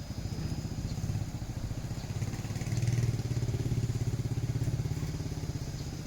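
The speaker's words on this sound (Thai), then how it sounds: "เสียงเครื่องยนต์เสียง การทำงานปกติทุกอย่างนะ" A car engine, running normally after an air-conditioning compressor clutch repair, idles steadily with a low, even, pulsing rumble, close by and unchanging, with no talking.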